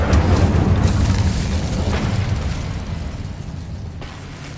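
Incendio fire spell cast in Hogwarts Legacy, a loud booming burst of flame with deep rumble that rolls on and slowly fades over several seconds, with faint crackling flickers.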